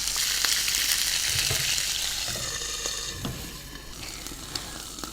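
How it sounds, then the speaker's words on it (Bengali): Fish sizzling in hot oil in a home kitchen, a bright, dense crackle that is loud at first and eases off gradually, with a few soft clinks of utensils and no talking. "তেলটা গরম হয়ে এলেই আমরা মাছগুলো এতে দিয়ে ভেজে নেব।"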